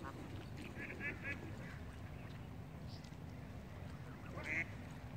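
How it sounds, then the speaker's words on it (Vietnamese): Wild ducks quack faintly at a lake with a lowered summer water level, giving a few short, distant calls under quiet talk. "Đây vịt ơi là vịt."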